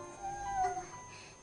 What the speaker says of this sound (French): 猫がいるのか。